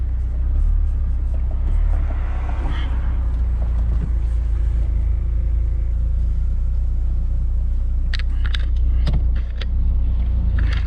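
A 2006 Audi TT Roadster 1.8T drives around the block, giving a steady low engine and road rumble heard from inside the cabin, with a few brief clicks and rattles near the end.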